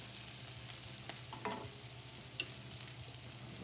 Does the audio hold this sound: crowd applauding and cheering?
no